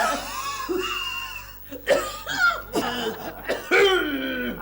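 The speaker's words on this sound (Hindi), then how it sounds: "ये प्रतिध्वनि खांसी है, एको खांसी।" Several harsh, loud coughs come in quick bursts in a comedy sitcom scene, some followed by a second cough like an echo, with throaty vocal sounds between them.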